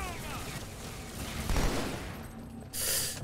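Rapid gunfire from Halo 2 crackles in a sustained burst under the game's ambient noise, closing with a bright hissing blast.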